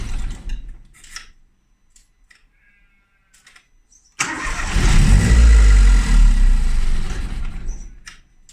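After a few clicks and small knocks, a boosted Mini's engine, with old fuel in the injectors, cranks and fires up loudly nearby on its first start, revving roughly before settling toward an idle.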